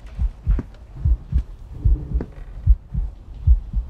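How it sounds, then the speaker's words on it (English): Heartbeat effect from the horror video game Paranormal Activity The Lost Soul, a deep thumping lub-dub pulse repeating steadily and loudly, about seven beats, with a low hum underneath and no talk. "I hear the heartbeat"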